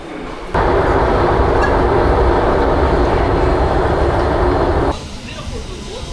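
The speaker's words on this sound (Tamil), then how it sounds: "ட்ரெயின் வந்துருச்சு காய்ஸ், ட்ரெயின் வந்துருச்சு." A train roars loudly and steadily into a station platform, a broad rumbling rush that drops off sharply near the end, leaving quieter background noise.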